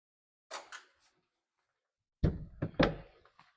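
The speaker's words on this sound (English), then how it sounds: "There's a magnet that holds that door open." The head door on a 2026 Boston Whaler 240 Vantage boat clicks softly open, then clunks and knocks in a few sharp close thuds as it catches on its holding magnet, in a quiet setting.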